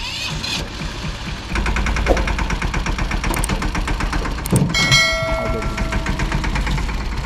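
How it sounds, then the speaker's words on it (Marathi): A tractor engine hauling a full load of water chugs steadily after a moment of lighter noise, a loud, even mechanical drone with rattling tones that runs to the end. "मित्रांनो फर्स्ट टाइम ना एवढं पाणी घेऊन ट्रॅक्टरमध्ये चाललोय"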